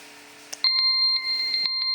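An electronic timer on a cooker making congee for a child in China, sounding a steady run of bright, loud beeps close by after a brief clatter.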